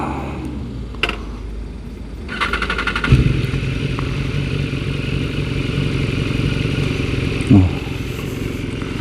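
A BMW S1000RR sport motorcycle idling nearby on a cold day, a steady loud engine drone with a few clunks and a brief rev, with no talking over it.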